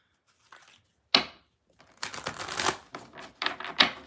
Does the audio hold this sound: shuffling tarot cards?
yes